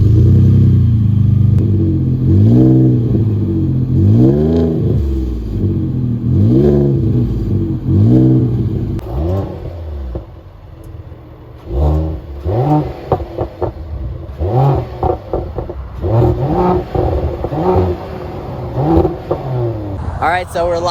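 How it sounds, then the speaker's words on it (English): A 2021 Mercedes GLE 53 AMG and a 500 hp Ford F-150 are revved up close in a sound check. Loud repeated rising and falling engine sweeps come first, then a short lull, then quicker sharp revving blips with some talk. "we're gonna do a little rev check, a little sound check of both the cars"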